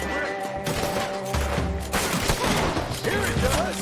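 Gunfire in Red Dead Redemption 2: a dense, continuous crackle of overlapping shots and booms under game music and voices, steady throughout with no clear gaps.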